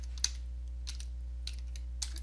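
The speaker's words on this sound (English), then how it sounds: "It's just type a name for the shortcut." Four light, sparse keystrokes on a computer keyboard, close and faint against a steady low hum, with no voices.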